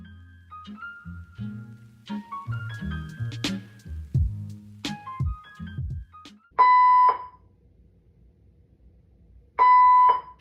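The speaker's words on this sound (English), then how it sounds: "They came on the intercom talking about a fire alarm." A building fire alarm sounds in two loud, sustained bursts of harsh electronic tone, each about a second long and spaced a few seconds apart, following a stretch of scattered music.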